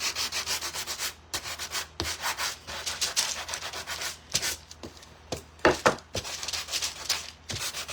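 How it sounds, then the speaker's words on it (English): Rhythmic back-and-forth hand-sanding strokes rasp against a wooden ladybug craft-kit piece, close and steady, with brief pauses between runs of strokes. "Sanding it up."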